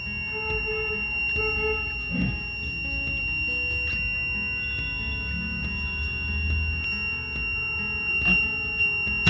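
A crop protection system against animals sounds its electronic alarm after a simulated animal triggers it, giving a sustained high-pitched tonal beep with steady pitch lines over low background hum and a few faint clicks.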